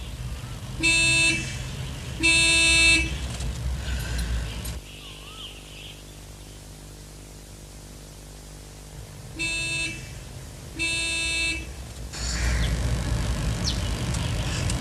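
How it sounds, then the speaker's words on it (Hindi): Two pairs of loud, steady car horn honks, each blast about a second long, with engine rumble and street noise underneath. "तो हॉर्न दो ना।"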